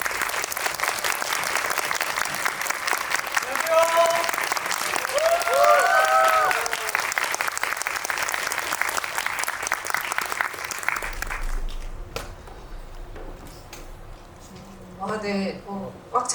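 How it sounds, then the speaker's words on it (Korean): A studio audience applauds steadily for about eleven seconds as guests, a novelist and film cast members, walk onto the stage at a Korean movie talk event, with a host's voice over it before the clapping fades and speech continues. "박수 부탁드립니다"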